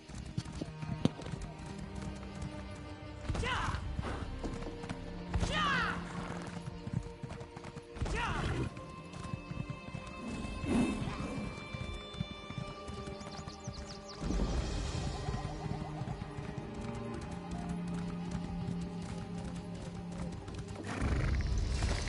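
Horse hooves gallop in The Elder Scrolls Online, with a steady clip-clop rhythm and occasional whinnies running under busy game sounds, and a voice talks at times.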